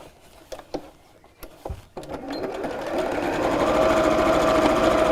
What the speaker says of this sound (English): and we'll sew straight across here.